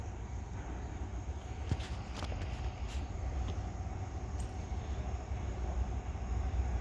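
CSX mixed freight train with two locomotives rolling past at Point of Rocks, Maryland: a steady, low rumble of cars rolling by at moderate distance, with occasional faint clanks and squeals over the continuous roar.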